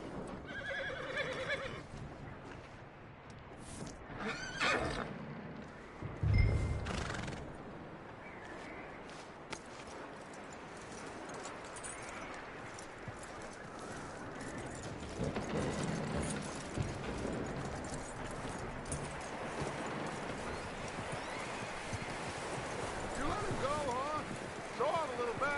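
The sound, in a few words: horse neighing and hooves clip-clopping in video game Red Dead Redemption 2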